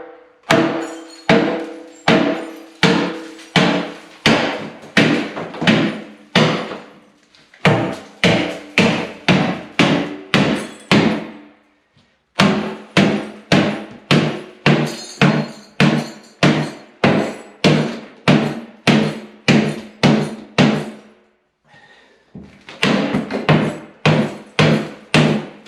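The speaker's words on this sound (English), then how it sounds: "So basically, I got it right down through here with the sledge." A sledgehammer pounds a cast iron bathtub during a bathroom remodel, dozens of loud, close, ringing metallic blows in a steady rhythm, with a couple of short pauses between bursts.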